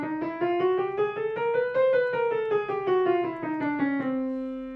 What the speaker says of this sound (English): A chromatic scale sounds like this.